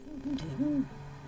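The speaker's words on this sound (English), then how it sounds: "It was two owls. Yes, owls. Imagine. This sound, but amplified and exasperated by two of them being agitated" Two agitated owls give a run of low, wavering hoots in Florida, several overlapping calls within about a second, fairly close over a steady background hum.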